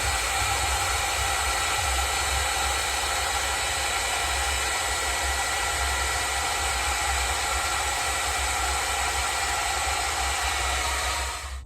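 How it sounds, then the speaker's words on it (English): A hair dryer blows steadily on a Corgi die-cast Centurion MK3 tank model, a loud, continuous whooshing roar with a low motor hum that holds unchanged and then cuts off at the end. "Let's go hit that with a hair dryer."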